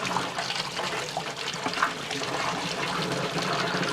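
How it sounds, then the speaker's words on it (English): Hot water pours from a tap through the bore of a cap and ball revolver during cleaning, a steady close rushing, splashing flow that continues evenly for several seconds without speech. "I want to make especially sure I get this hot water going down through the bore"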